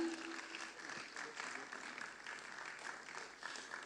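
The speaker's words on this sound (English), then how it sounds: "Please, a round of applause for them" Audience applause at a convention panel session welcoming panel guests, a busy wash of clapping that holds steady throughout, with faint voices mixed underneath.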